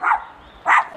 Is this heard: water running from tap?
no